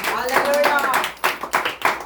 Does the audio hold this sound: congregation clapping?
yes